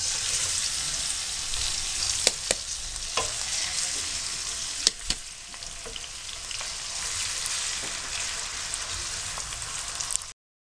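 Onions frying in hot cooking oil for a peas pulao, a steady loud hiss of sizzling close by, broken by a few sharp pops and crackles, with no talk.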